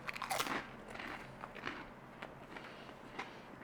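Crunching bites into crusty garlic bread soaked with garlic butter, one sharp loud crunch at the start followed by softer, scattered chewing crunches, close and quiet with no talk.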